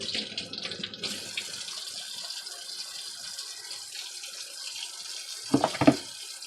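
Salt cod rinsed under a running kitchen tap, a steady close splashing hiss of water into the sink that thins out midway, then a few louder splashes and knocks near the end.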